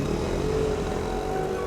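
A motorcycle engine idles and runs close by, a short steady low rumble with a faint tonal hum and no voices.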